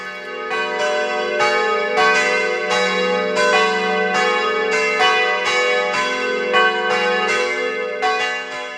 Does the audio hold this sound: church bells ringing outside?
yes